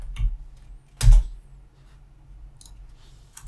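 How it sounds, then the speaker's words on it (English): Sparse, soft keystroke clicks on a computer keyboard while a terraform apply command is typed, a few scattered taps close by with quiet pauses between. "I'm just going to type terraform apply."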